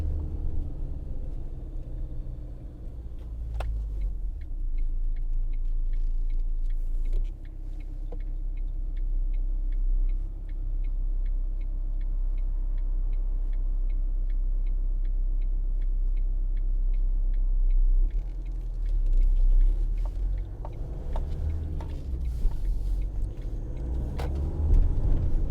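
A 2012 Ford Transit 2.2 TDCi panel van pulls uphill at low speed with a steady low diesel drone heard from inside the cab, a regular ticking running through most of it and faint creaks.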